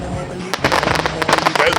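Fireworks explode nearby in a dense run of sharp crackling bursts and pops while people talk over them.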